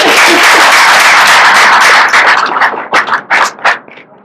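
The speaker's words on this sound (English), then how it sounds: "let's give them a round of applause" A crowd applauds loudly with dense, sustained clapping that thins out into a few scattered claps before fading.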